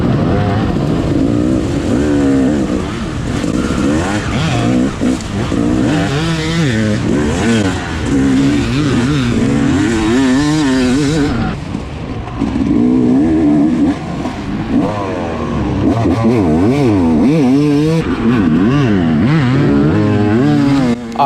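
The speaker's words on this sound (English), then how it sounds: "Had to pop a wheelie for Stacy Mundy." Off-road motorcycles roar loudly at the start of a pro-class cross-country race, engines revving hard and wavering up and down in pitch as the riders pull away, with a continuous close engine roar throughout.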